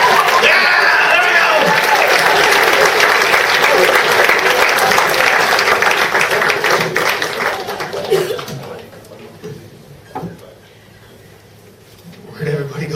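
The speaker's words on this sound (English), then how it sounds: "Don't stop clapping." A room full of audience members claps steadily and loudly with scattered laughs and chatter, then the applause thins out and fades to near quiet before a few last claps.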